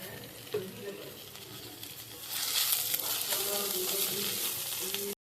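Green chili, curry leaves, hing and ginger-garlic paste fry in a pan for a kantola bhaji, giving a steady close sizzle that swells louder and brighter halfway through and keeps crackling to the end.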